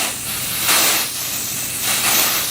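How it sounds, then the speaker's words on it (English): Aerosol hair spray hisses onto a curly half wig in two close, loud bursts over a steady background hiss. "I need to quit inhaling this aerosol"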